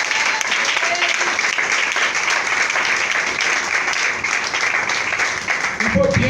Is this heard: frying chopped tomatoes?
no